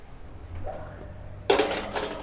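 A metal pan of tilapia slid into a broiling oven, heard as a sudden close clatter of metal on the rack after a quiet stretch of low kitchen hum, trailing off into a faint rattle.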